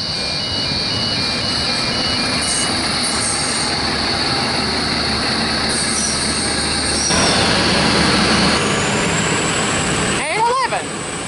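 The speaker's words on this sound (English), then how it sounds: "Our service arriving on the platform number 2." A train rumbles steadily as it rolls into platform 2 at Tahmoor station, New South Wales, wheels squealing and a high whine rising near the end, with station announcement talk over it.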